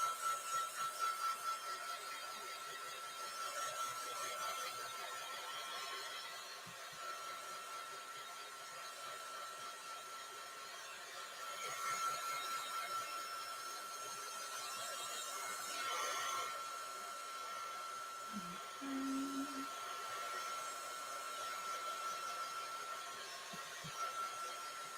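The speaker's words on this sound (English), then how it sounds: "the camera automatically like softens the noise from the heat gun" A heat gun blows steadily through the whole stretch during a craft project, a constant airy whoosh with a faint tonal whine, close and fairly even, with small handling shifts and brief low knocks near the end.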